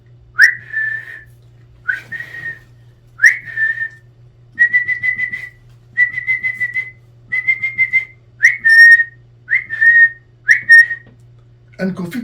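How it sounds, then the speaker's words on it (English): A person whistles a tune in a steady series of clear, short melodic phrases, near and alone with brief pauses between them. "Abu began to whistle."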